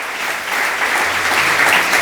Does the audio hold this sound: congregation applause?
yes